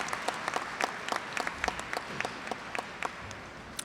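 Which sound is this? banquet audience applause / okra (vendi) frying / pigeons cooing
banquet audience applause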